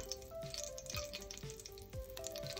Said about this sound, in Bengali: এখন এটাতে একটু সামান্য জিরা ফোড়ন দিয়ে দিব, ঘ্রাণটা ভালো হবে।